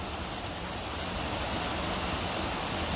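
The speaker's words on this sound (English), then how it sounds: "The rain on the tin roof is getting lighter." Steady, dense rain drumming on a tin roof during a thunderstorm, a continuous broadband hiss that stays even and close throughout, with no voices over it.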